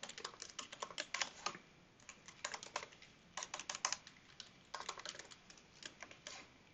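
Steady bursts of computer keyboard typing as JavaScript code is entered, quick clusters of close, crisp key clicks separated by short pauses.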